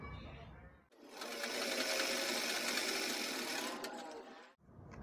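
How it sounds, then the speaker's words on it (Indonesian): A sewing machine runs a loose gathering stitch through fabric in one continuous whirring burst of about four seconds, close and steady, with quiet moments before and after. "Ini kita jahit renggang. Jadi ini setelannya saya turunkan ke bawah untuk mendapatkan jahitan yang renggang."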